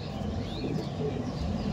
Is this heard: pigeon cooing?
yes